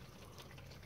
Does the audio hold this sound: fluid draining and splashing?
yes